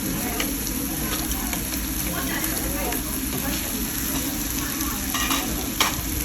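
Shrimp and fish frying in a hot pan, a dense continuous sizzle and crackle with occasional spatters, steady and close throughout.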